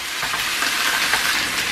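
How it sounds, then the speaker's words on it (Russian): Meat frying in a pan as the base for Georgian kharcho soup, a steady close hiss and sizzle of fat, continuous and even throughout with no talking. "Обжариваю таким образом мясо примерно около 5 минут."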